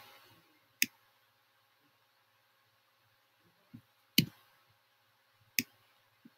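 A computer mouse clicks sharply a few times while working in Photoshop, isolated close taps spaced seconds apart over a faint background hum.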